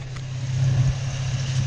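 Nissan 350Z engine running with the car parked during oil-leak repair, a steady low droning idle held close and continuous throughout.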